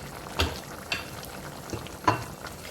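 Half-cooked minced meat with chana dal sizzles in a pan as a spoon stirs it, a low steady frying hiss broken by a few scraping stirs, close and fairly quiet, without voices.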